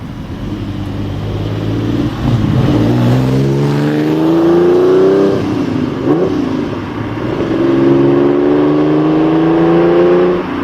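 Lamborghini Countach LPI 800-4 with a 6.5-liter V12 and electric motor, in a Need for Speed racing game, revving up in rising sweeps, dipping briefly, then climbing again, loud and close with no talk.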